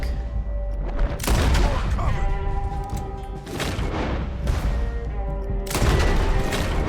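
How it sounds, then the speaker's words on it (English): Gunfire in Red Dead Redemption 2 during a firefight at a door, repeated loud, booming shots in irregular bursts, close and echoing, with voices shouting among them. "They're shooting through."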